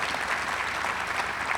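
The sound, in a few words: stadium crowd applause for donors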